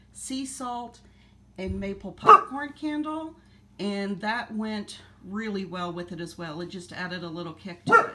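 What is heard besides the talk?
dog barking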